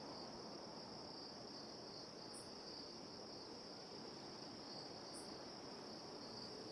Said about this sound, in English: And we're back to hearing crickets.